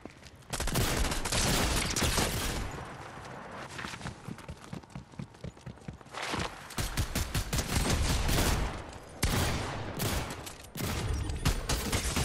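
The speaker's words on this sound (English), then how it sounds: "getting shot from the side window" Fortnite gunfire crackles in dense, rapid bursts through most of the stretch, with brief lulls and sharp volleys of close, loud shots that sound like fire coming through a side window.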